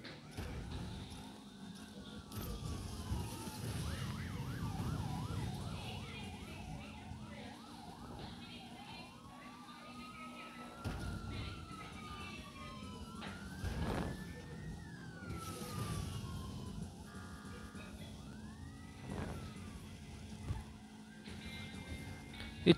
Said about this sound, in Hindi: जो हूटर भी खतरनाक है, देसी हूटर है